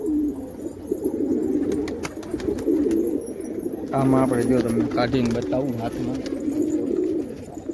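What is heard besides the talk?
racing pigeons cooing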